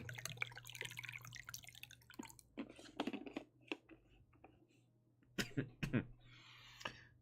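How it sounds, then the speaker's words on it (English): A few quiet, odd-sounding coughs and throat clearings close to the mic, scattered over several seconds against a low steady hum and faint tapping. "It's a really weird cough."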